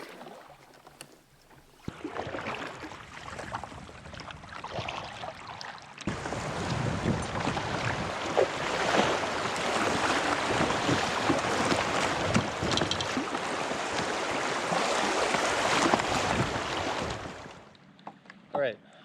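A Crescent Shoalie kayak paddled on a river gives a steady rushing wash of water and wind, fairly close, lasting over fifteen seconds with quieter moments at the start and end.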